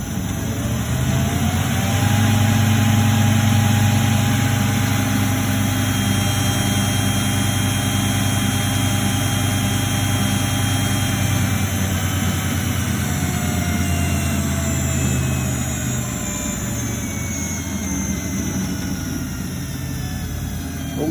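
An engine drives a generator, running loud and continuous as its RPM climbs, with steady droning harmonics that slowly shift pitch while the current load stays light.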